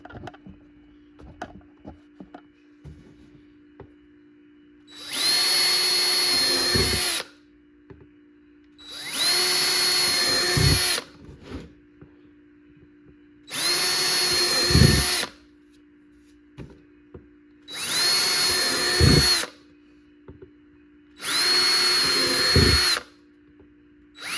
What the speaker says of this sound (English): let's go ahead and work on drilling some holes over here